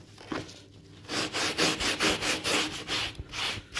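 Close hand rubbing across a surface, a steady series of rhythmic back-and-forth strokes with a coarse, scratchy texture, loud and unaccompanied by talk.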